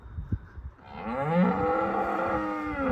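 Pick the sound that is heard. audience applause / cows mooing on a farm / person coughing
cows mooing on a farm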